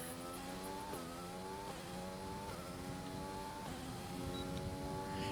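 Formula 1 race car in the F1 2020 video game, engine screaming at high revs through a lap with repeated rising gear shifts, steady and loud throughout with no talking.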